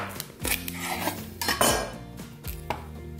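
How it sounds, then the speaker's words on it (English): A knife cuts thick carrots in half on a board, with several knocking chops and clinks of cutlery and dishes at an uneven pace, close and clear with no talking. "on these like really thick ones, I'm gonna cut it in half"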